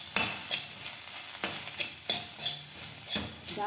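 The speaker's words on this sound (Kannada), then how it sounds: "ಫ್ರೈ ಮಾಡ್ಕೊಳ್ಳೋಣ" Okra for a lady's finger palya fries in a pan, stirred with a spatula in several sharp scraping strokes over a quiet, continuous sizzle, close by.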